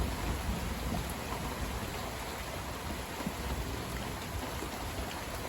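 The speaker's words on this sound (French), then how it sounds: "le temps tourne à l'orage ce matin" Steady rain pours down with broadband hiss and low rumbling underneath, continuous and fairly loud throughout, a morning thunderstorm setting in.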